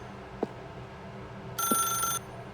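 A telephone in The Stanley Parable Ultra Deluxe rings once in a short bright electronic burst, preceded by faint soft clicks against a quiet ambient room tone.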